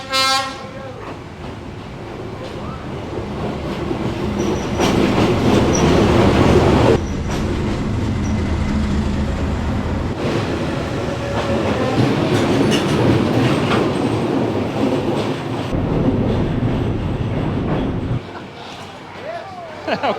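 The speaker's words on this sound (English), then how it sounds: "Okay, I can hear the train coming. Oh no! Here it comes." A train rumbles past close by on street tracks in Hanoi's Train Street, with a horn blast at the start, clattering wheels and grinding steel building loud, then fading; voices are faintly audible.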